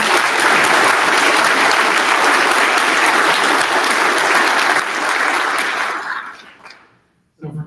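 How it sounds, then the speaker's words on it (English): Loud, sustained applause from a large audience at an Air Force cyber change-of-command ceremony, thick clapping that fades out toward the end before a brief sound returns. "How about a round of applause for the"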